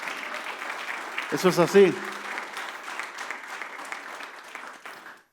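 A church congregation applauds at an Easter service, a broad steady wash of clapping lasting several seconds, with the pastor's voice speaking over it and a few louder bursts partway through before it fades.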